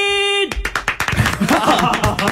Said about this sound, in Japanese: こんなこう低いところからの拍手なかなかないですよね。